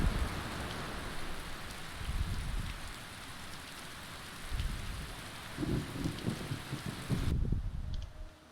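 Steady heavy rain pours in a video game scene, with low rumbling bursts like thunder rolling underneath before the downpour cuts off abruptly near the end.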